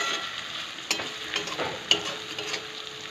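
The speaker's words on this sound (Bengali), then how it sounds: "ভালো করে ভাজা ভাজা করে কষিয়ে নেব।" Bitter gourd pieces stir-fried with chopped onion and garlic in hot oil, a soft continuous sizzle broken by sharp scrapes and clinks of a spatula stirring in the pan, fairly quiet and close.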